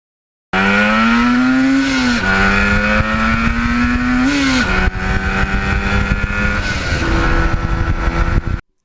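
A restored 1977 Yamaha RD400 motorcycle engine drones loudly and continuously up close, its pitch rising and dipping as the rider shifts and accelerates along a back road.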